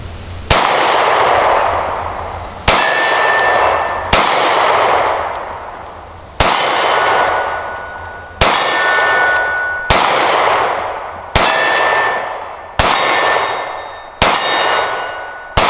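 Ten rounds from a Sig Sauer P365 micro compact pistol ring off a steel target outdoors, each a loud sharp crack with a metallic clang that rings out and decays before the next, in steady spaced rhythm.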